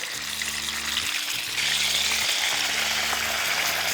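Chicken tapaka frying breast side down in a pan, a loud continuous sizzle and spatter with a low pulsing hum underneath.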